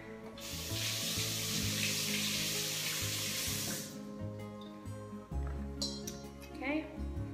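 Running tap water rinses fresh fruit in a kitchen sink, a steady broadband rush for about four seconds before it shuts off, followed by light clinks and handling noises with background music underneath.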